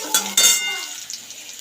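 Two sharp metallic clinks of a spoon against a pan ring out, then a soft sizzle trails off as onions and chilies fry in oil with cumin seeds for an egg curry.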